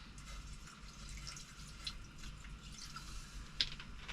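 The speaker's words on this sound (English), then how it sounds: "So add a bit more water." Water is poured into a cooking pot of chilli plum sauce for kangaroo pies, a faint trickling and dripping under steady kitchen background noise, with a couple of soft splashes.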